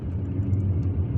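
Car driving through the streets of Algiers, a steady low rumble of engine and road noise, close and continuous.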